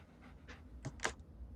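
Dogmeat, the dog companion in the video game Fallout 3, pants in a few short, quick breaths, close and clear with no talking.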